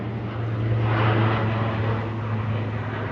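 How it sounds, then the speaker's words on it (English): A firefighting plane with water tanks under its wings flies overhead near a ruined house being renovated in Portugal, a steady low engine drone that swells slightly and then eases, with no voices. "This is a special firefighting plane with water tanks underneath its wings"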